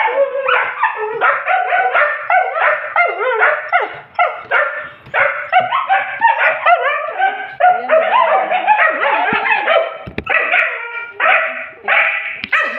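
Several dogs bark wildly in rapid, overlapping bursts mixed with yips and whimpers, loud and close, with only brief pauses.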